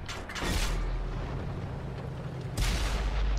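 Sherman Jumbo tank cannons fire in World of Tanks on Xbox One. Two heavy, booming shots land about two seconds apart, each with a deep rumbling tail over mechanical battlefield noise.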